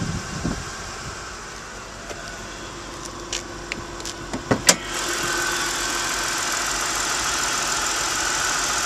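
A six-cylinder, fuel-injected, 24-valve convertible car engine idles at a steady even hum, with a few brief clicks and knocks early on before the idle settles into a continuous drone, no voices.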